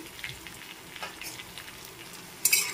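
Kashmiri chili powder, hot chili powder and turmeric are stirred in a pan of frying raw-mango fish curry base, giving a soft, low sizzle with light scraping strokes and a louder splatter near the end.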